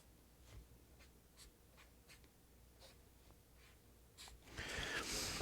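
A pen scratches across paper in short, irregular strokes, faint and close, with light breathing and a louder rustle near the end.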